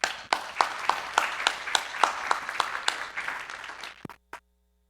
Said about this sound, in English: Give a big round of applause for Dr. Archana